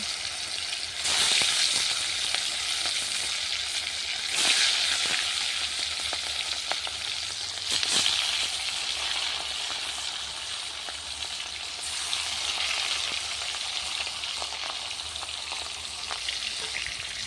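Fish fry in very hot oil in a kadai over a clay stove, giving a constant close sizzle with occasional crackles and louder surges as pieces settle.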